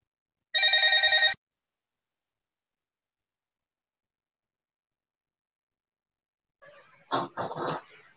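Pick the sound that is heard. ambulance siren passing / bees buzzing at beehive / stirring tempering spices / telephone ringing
telephone ringing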